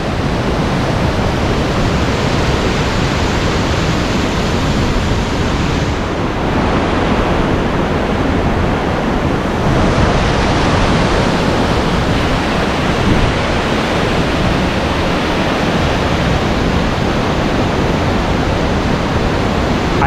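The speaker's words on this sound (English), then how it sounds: "That is the water falling." Thompson's Falls at Nyahururu, a powerful waterfall heard from its base, gives a steady, loud broadband roar of crashing water that stays dense and unbroken throughout, with no voices over it.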